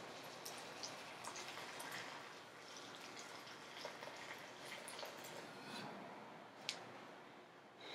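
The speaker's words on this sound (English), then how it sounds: "And I'll just pour it right into my pan with the cabbage." Hot water poured from a kettle into a pan of cabbage, giving a steady, moderately quiet rushing splash that runs evenly throughout with a small clink near the end.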